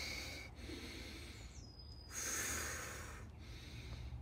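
A person exhaling during a side plank exercise: soft, breathy airflow close to the mic, with short puffs and one longer, stronger breath out in the middle, quiet and without speech.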